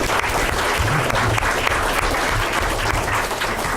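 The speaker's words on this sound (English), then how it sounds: "Accept another round of applause" Dense, sustained applause from a gathered audience at a city council meeting, steady and loud throughout with no clear gaps.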